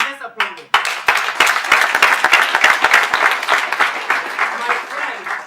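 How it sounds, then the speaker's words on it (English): An audience at a speech contest bursts into applause, close and lively clapping that builds quickly and continues steadily throughout. "Please, let's applaud them."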